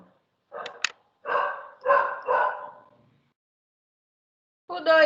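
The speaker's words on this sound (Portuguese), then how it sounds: "Ah, cachorro." A dog barks in a quick cluster of sharp, fairly close barks, pauses for a couple of seconds, then lets out one more bark alone.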